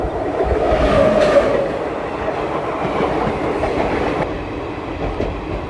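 The Simhadri Express running on the rails between Bhimavaram and Visakhapatnam: a loud, steady rumble with clickety-clack and a brief wheel squeal early on, heard from close by on board.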